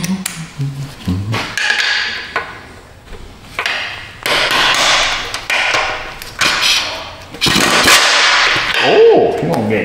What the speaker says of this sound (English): You're gonna have to get a real hammer.